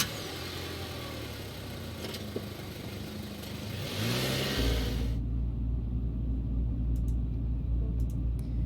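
A BMW car engine in the game Scarlet Hollow, a steady low rumble that swells into a louder, deeper revving roar partway through and holds, with no talking.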